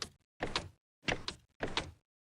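New Minecraft piston sound from the 1.21 snapshot: four short mechanical sliding thumps, evenly spaced with silent gaps between them, fairly quiet and heard alone.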